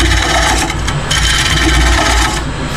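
Loud, continuous rough scraping as wood is roughed out with a hand tool, shavings cutting away in quick repeated strokes close by.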